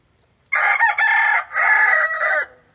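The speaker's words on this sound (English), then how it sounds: "That was a good crow." A rooster crows loud and close, one long cock-a-doodle-doo of about two seconds broken into several rising and sustained phrases, standing alone against a quiet farmyard background.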